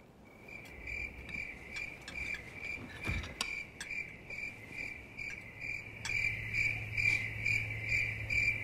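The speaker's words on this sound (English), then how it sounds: "And the cricket in the back didn't help" Cricket chirping in a quiet background during a dinner scene, a steady high-pitched pulsing trill repeating rhythmically for several seconds alone, with a single sharp knock partway through.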